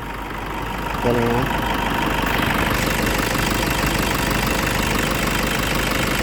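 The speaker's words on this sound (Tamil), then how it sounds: "அந்த வண்டி ஓடுற சவுண்டு பாருங்கள்" A used Toyota Innova G4 engine idles nearby with a steady mid-pitched diesel clatter, growing slightly louder after a second and holding even, while someone speaks briefly over it.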